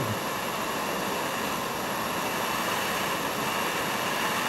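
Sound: glass bead-making torch flame roaring

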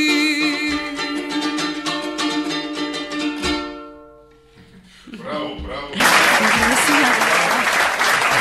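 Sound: applause for Fati

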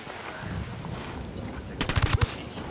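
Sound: gunfire in video game Ghost Recon Wildlands

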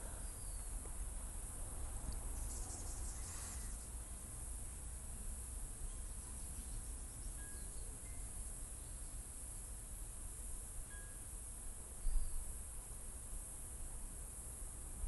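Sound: crickets chirping at night

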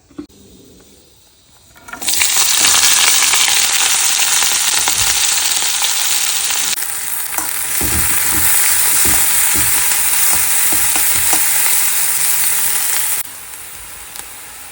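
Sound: onion, garlic, chilli sautéing in oil

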